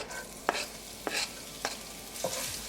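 Cumin seeds and ginger sauté in hot olive oil with a soft sizzle underneath. Four sharp scraping stir strokes land roughly every half second.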